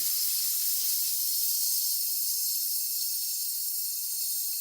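Steam hissing steadily from a pressure cooker cooking artichoke heart risotto, a constant bright, airy hiss at moderate level, alone without talk.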